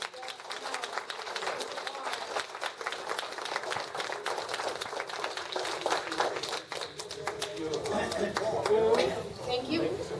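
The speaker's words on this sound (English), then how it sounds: "I would like everybody to give him a huge round of applause" An audience claps in a steady round of applause honoring someone back from rehab, with scattered hand claps and crowd murmur throughout, swelling slightly toward the end.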